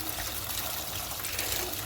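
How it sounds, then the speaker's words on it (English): Warm water runs from a tap into a container for rinsing braiding hair, a steady close splashing flow lasting the whole moment with no voices. "So I'm going to go ahead and let just some warm water in there."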